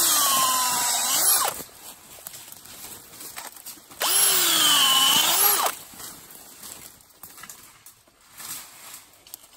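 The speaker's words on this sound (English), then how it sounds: "important to fill them promptly after you've drilled the hole for best results" A power drill boring holes into a tree trunk during bush weed control work, two loud close whining bursts of about one and a half seconds each, separated by quieter handling noise and rustling.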